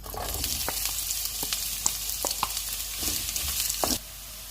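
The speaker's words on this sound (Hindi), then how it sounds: "तो प्याज इसमें फ्राई हो जाएंगे" Onions frying in a few tablespoons of hot oil make a steady, close, dense sizzle with light stirring clicks throughout, cutting off abruptly near the end.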